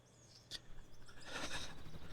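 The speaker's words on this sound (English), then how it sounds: "There's nothing other than bird chirping noises because there's nothing noisy nearby." Birds chirp faintly in the ambient soundscape of the factory-building video game Out of Ore, short calls scattered over a low background hum, with no one talking.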